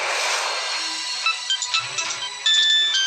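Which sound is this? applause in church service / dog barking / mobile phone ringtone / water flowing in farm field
mobile phone ringtone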